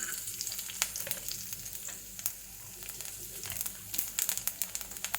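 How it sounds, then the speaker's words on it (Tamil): Mustard seeds and garlic frying in a little oil for a moringa leaves curry, a soft steady sizzle dotted with sharp crackles and pops that grow busier toward the end. "இப்போது நான் கொஞ்சமாக ஆயில் விடுறேன். கடுகு, இப்போது பூண்டு போடுறேன்."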